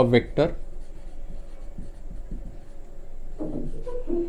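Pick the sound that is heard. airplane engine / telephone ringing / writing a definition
writing a definition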